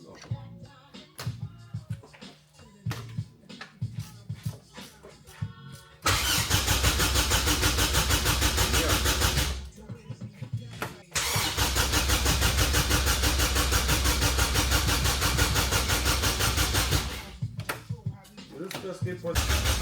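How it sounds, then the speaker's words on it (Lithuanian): A freshly rebuilt car engine cranks and catches, then runs loud and steady for a few seconds, drops out, restarts and keeps running, with brief talk in the gaps between runs. "Šiandien turėtų pavykti užvesti mašiną."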